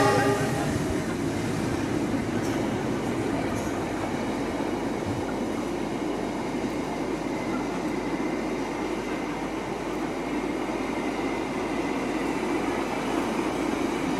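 A long Pertamina freight train rumbles past nearby, a loud, steady roar of rolling wagons with faint clatter that lasts throughout, with no talk heard.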